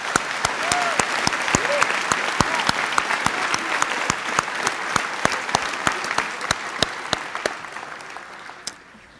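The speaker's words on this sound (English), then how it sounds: "please join me in a round of applause for the faculty and staff" Sustained applause from a large crowd at a high school graduation for faculty and staff, with dense clapping and sharp, loud individual claps nearby, tapering off toward the end.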